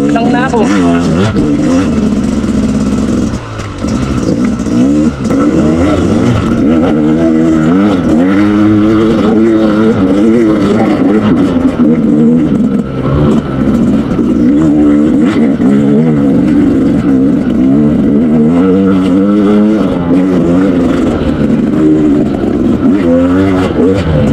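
A motorcycle engine drones loudly and continuously while riding a rough mountain trail at Mt. Balagbag, with shifting pitch as the rider varies throttle. Someone talks over it.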